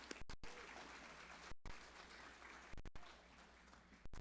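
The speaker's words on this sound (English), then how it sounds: "if everyone could please give a round of applause to President Clubber." Audience at a reentry symposium panel applauding a college president, a steady wash of many hands clapping, fairly faint and distant, continuing for several seconds with a few brief gaps.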